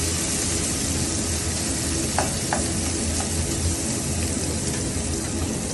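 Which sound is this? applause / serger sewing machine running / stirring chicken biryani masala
stirring chicken biryani masala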